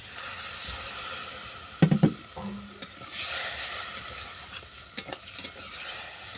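Water splashes into a hot pan of spiced watermelon sukto and sizzles steadily while a spoon stirs, with a few sharp scraping knocks near the start and later, all close and fairly quiet.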